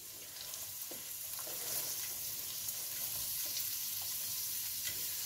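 Roughly chopped onion fries in a pan for aloo gobi, a close, steady sizzle with small crackles and occasional stirring scrapes, growing slightly fuller after the first second, no voices.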